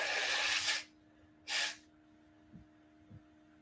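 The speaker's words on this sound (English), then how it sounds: "I need to blow my nose" A person blows their nose in two sharp, loud bursts of rushing air, the first lasting nearly a second and the second shorter, followed by a couple of faint sniffs.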